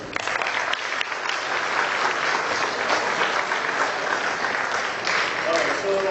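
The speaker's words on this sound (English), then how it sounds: "you should give a round of applause to yourself" Steady, dense applause from a lecture audience at IMT Nagpur fills the whole stretch, a continuous wash of many hands clapping at close range, with faint voices mixed in underneath.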